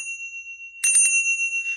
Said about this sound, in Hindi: आप मंदिर में जाते हैं, आप घंटी करते हो